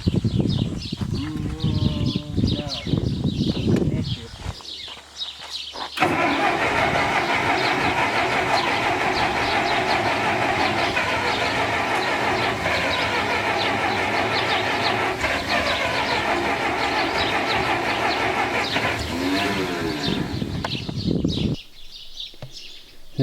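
Massey Ferguson 65 tractor with a typical Massey starter cranking loud and close for a long, steady grinding stretch, then stopping abruptly, with brief noise before and after.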